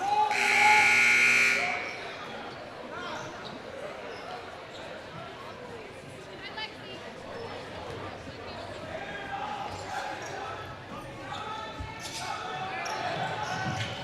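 The halftime buzzer at a boys basketball game sounds loud and long at the start, then fades into gym crowd noise and a commentator's voice.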